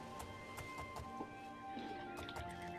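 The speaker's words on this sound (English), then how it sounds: "Is this your horse?" A horse in the video game Oblivion, with sharp, evenly spaced hoof clops and a faint snort or whinny over a steady game ambience.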